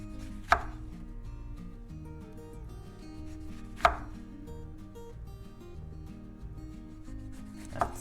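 Three separate knife strokes chop through lemon slices on a wooden cutting board, sharp close thuds spaced a few seconds apart over quiet steady background music.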